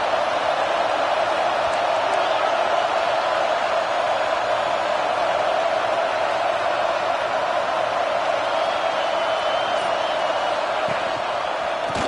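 A football stadium crowd keeps up a constant, loud, dense roar as it gets behind the home defense, sounding like a sustained wash of cheering with no clear breaks.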